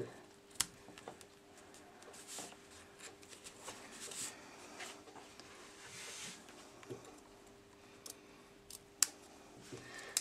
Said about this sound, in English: I'm going to grab my ribbon scissors, and I'm just going to clean off these edges.